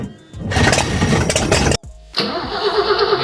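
A BMW E21 engine is cranked through a switch wired straight to the starter solenoid, giving a loud, close, rhythmic churning burst, a brief pause, then a second cranking attempt, with no talking.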